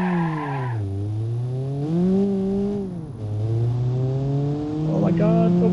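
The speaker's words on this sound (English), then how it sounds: "Pushing nitrous in, come on, build up the revs." In the BeamNG.Drive driving game, a car engine with a blown head gasket revs hard on nitrous: a loud, continuous tonal engine drone rising and dipping in pitch as the revs climb, fall and climb again, with no talking.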